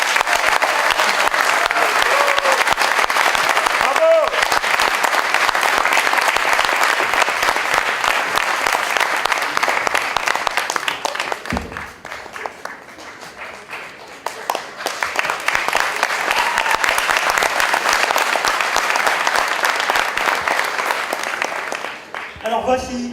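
Warm applause at an opening ceremony in Villejuif, France: a large audience claps steadily, dips into a quieter lull in the middle, then swells back to full clapping before trailing off.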